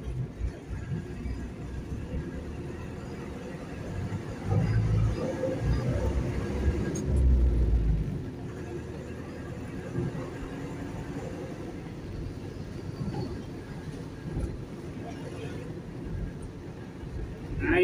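An old heavy four-cylinders-per-side truck rumbles low and steady while driving, its engine swelling louder for a few seconds as it pulls, with someone talking over the drone throughout.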